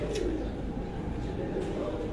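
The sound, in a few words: pigeon cooing while handled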